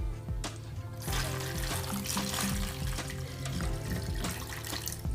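Water poured from a bottle into a box holding a phone, splashing and trickling steadily after a brief quiet start, close and fairly soft.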